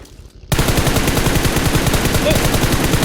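Automatic gunfire in PUBG Mobile starts suddenly after a short quiet moment and continues as a loud, steady, rapid burst of shots close by through the rest of the clip.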